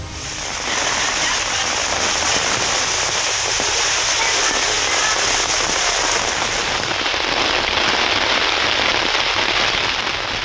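Heavy rain pours steadily in the Thiruparankundram area, a dense, constant hiss of downpour that starts almost at once and holds loud and even to the end, with no voices.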